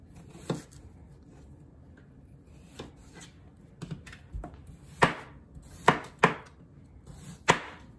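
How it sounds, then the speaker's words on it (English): Potatoes being chopped with a kitchen knife on a board, a series of irregular sharp thuds, some louder and crisper with slight scraping between strokes, close by, with no talking. "These potatoes want to stick to this knife."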